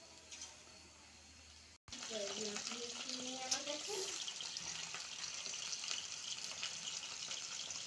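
Chicken pieces dropped into hot oil in a kadai, a steady loud sizzle that starts abruptly after a brief pause and continues throughout, with some clinking and a voice briefly audible.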